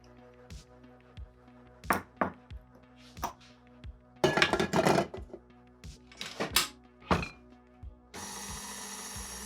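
An electric mixer works cookie dough with flour: a steady motor whine broken by knocks and rattles, louder churning bursts partway through, then a constant loud whirring to the end, close by.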